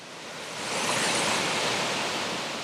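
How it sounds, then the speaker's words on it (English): Waipoo Falls on Kauai, Hawaii, rush in a loud, steady, broadband roar that swells slightly and then holds, with no voices. "this is the end of the waterfall"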